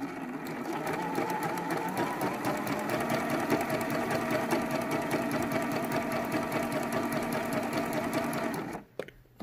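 A sewing machine chain-pieces quilt fabric for a T-shirt quilt, a close, steady rapid whir of stitching that runs continuously for about nine seconds before stopping abruptly.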